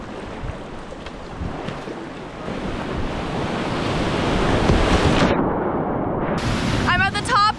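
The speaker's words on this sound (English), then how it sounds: "we are going to run Blanco Sur, which is a 30-foot waterfall" Thirty-foot Blanco Sur waterfall in Chile, a steady broad roar of rushing whitewater filling the scene, loud and continuous with wind buffeting the microphone throughout.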